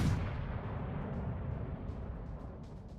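Naval guns firing in the World of Warships video game, a deep booming blast that rolls into a long rumbling tail, moderately loud with no talk.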